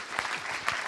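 A short, faint patter of applause from a property conference audience, a few louder claps standing out from a soft steady wash.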